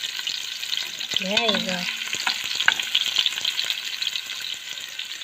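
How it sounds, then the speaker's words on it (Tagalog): Garlic and onion sizzle and are stirred in a hot pan for a native chicken tinola, a steady close frying crackle with scraping, while a voice briefly speaks over it. "So first, that's garlic and onion. Just mix it."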